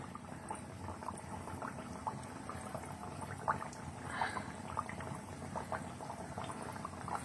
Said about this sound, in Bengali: এটাকে খুব ভালো করে ভাজতে দিতে হবে, 2 পিঠ বেশ লালচে করে ভাজবে।